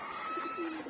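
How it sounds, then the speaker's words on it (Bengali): Pet pigeons coo close by in a home loft, a soft, rolling low call that swells and fades within a single breath, with no talking over it. "আর এই যে এখানে হচ্ছে আমার আর 10টা কবুতর"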